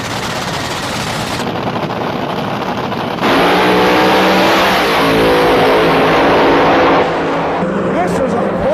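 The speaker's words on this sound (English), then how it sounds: "This is a close drag race" Drag race cars from a 1960s-style drag racing event roar down the strip, a loud sustained engine blast that swells sharply midway with rapid mechanical crackle, then eases slightly near the end amid crowd and ambient noise.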